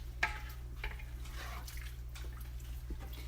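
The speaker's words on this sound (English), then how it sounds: "I'm going to stir that up" A pot of chili with canned ingredients being stirred, soft wet sloshes and a few light knocks of the spoon against the pot over a low steady hum.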